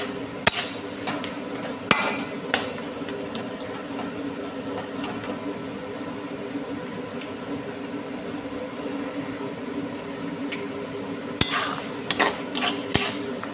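Tomato and grape chutney cooking in a pan over a high gas flame, with a steady low hiss and occasional sharp knocks and scrapes of a utensil stirring it, close and fairly quiet.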